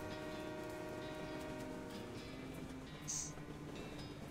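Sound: moving train in the video game West of Loathing

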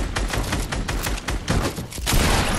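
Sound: gunfire in the Fortnite video game

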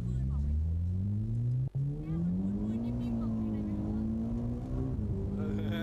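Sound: race car engine under full boost

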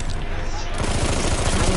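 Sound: gunfire from a gun in the video game Battlefield 1

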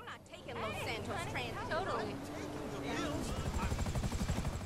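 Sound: helicopter flying in video game GTA Online

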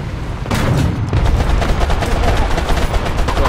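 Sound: tank gunfire hitting enemy, from video game War Thunder

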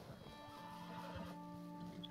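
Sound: horse whinnying in the video game Red Dead Redemption 2

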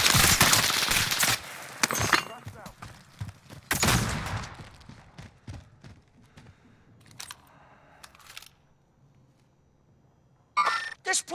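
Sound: gunfire in video game Call of Duty: Modern Warfare

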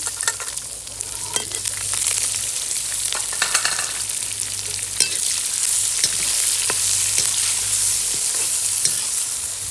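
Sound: onions frying and being stirred in a pan for kadhi

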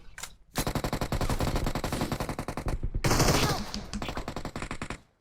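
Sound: gunfire in the video game PUBG Mobile

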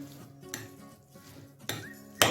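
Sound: stirring salad in a bowl

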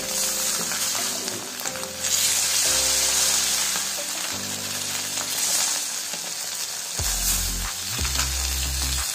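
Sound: rava-coated fish frying on a tawa

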